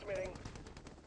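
Rapid bursts of automatic gunfire from the video game Empires & Allies, a dense rattling volley that stays loud and close for about a second, with a faint voice mixed in.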